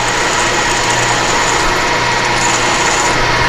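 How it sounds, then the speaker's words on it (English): Holes in a steel tool block are countersunk to about six hundred thousandths, producing a steady, loud, high-pitched grinding whine from the cutting tool that runs unbroken throughout. "what I'm going to do is countersink these about 600 thousandths"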